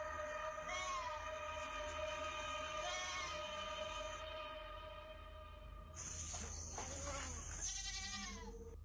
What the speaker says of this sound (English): the goats are making loads of noise